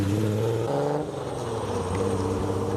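A Toyota Yaris rally car runs along a rally stage road, its engine a loud, close, sustained droning roar that shifts pitch as it revs and passes, with no voices.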